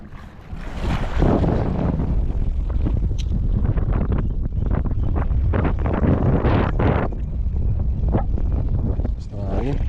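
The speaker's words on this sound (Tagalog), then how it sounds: "Basta hangin." Strong gusty wind buffets the microphone on a seaside shore while casting with a micro jig, a loud continuous roar with surges, and voices talk briefly underneath.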